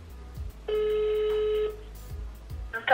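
A telephone rings while a number is redialled: one steady electronic ring tone lasting about a second, clear and near, followed by quiet line noise and a brief sharper burst at the end.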